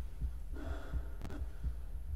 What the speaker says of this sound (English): I hear my heart beating.